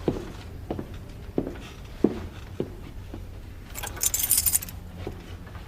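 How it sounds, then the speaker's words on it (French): A bunch of keys jangles and clinks in a quiet courtroom, shown as an exhibit, with several shakes spread across the moment and a brighter, denser rattle near the end. "La pièce à conviction DP44 est un trousseau de clés"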